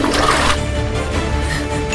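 A toilet flushes with a loud, close rush of water that swirls steadily for the whole moment.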